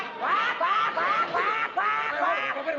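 A person imitates a duck with a rapid run of nasal, comic quacks, close and fairly loud, in a short burst of repeated calls with no other sounds around them.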